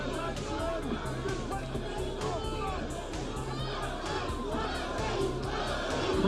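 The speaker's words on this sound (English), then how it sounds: "Crowd once again trying to lift Eddie Hall" Boxing crowd at a strongman bout roaring and cheering for Eddie Hall, a dense continuous wall of shouting voices with rising calls throughout.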